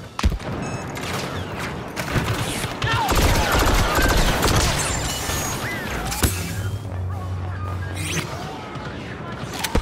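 Soldiers firing guns in a video game, dense bursts of rapid gunfire and crashes layered with shouted commands, continuous and busy throughout.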